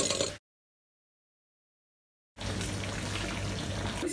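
Sieved palm nut liquid for banga stew is poured back into a bowl, making a soft, steady rush of liquid. The pour follows a brief cut to silence.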